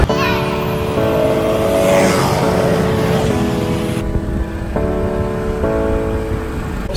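A scooter engine hums steadily while riding on Ko Samet island in Thailand, its drone shifting pitch in steps as the rider changes speed, with wind rush and faint voices nearby.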